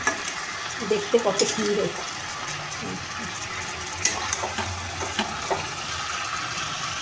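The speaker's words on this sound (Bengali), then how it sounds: "চিকেনটাকে আমি একদম এই মশলার সাথে ভালোভাবে কষিয়ে নেব।" Chicken stir-fried with spices in a pan for coriander (dhania) chicken, giving a steady close sizzle and scraping stir with a few louder clatters early on; a voice speaks briefly over it.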